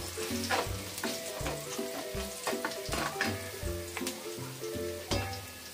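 Vegetables fry and sizzle in a pan for pork pochero, a steady crackling hiss broken by regular stirring scrapes and clinks, close and alone.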